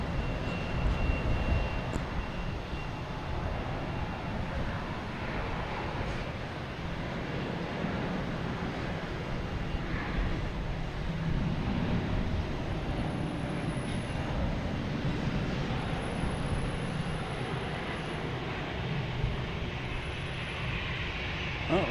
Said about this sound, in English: next takeoff is Delta, A330-900, heading to Paris